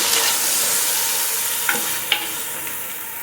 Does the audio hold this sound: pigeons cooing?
no